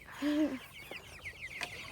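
Chickens on a family farm cluck and chirp close by during chores, a low brief cluck followed by softer scattered calls against a quiet background.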